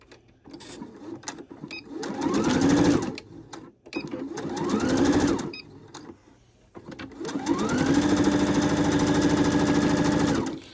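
A Brother sewing machine stitching fabric, three bursts of close, loud motor whir that rise in pitch as the needle speeds up, the last run longest and steady.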